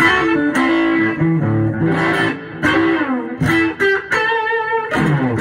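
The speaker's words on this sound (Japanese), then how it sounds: "ムチッとした感じの渋い歪みですね。" Electric guitar played through a Milkman Sound The Amp pedal-style amplifier, giving a mild, thick, warm overdrive. Chords and single notes ring out loud and close, with continuous sustained playing and brief pauses.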